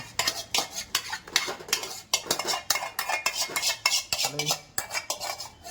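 A spoon scrapes and clinks steadily against a pan while a chutney mixture for dahi tadka is stirred, the metallic strokes close and busy with a faint sizzle beneath.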